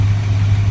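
A 1966 Plymouth engine idles close by with its timing set by ear, a loud, steady low rumble that holds even throughout with no talk over it.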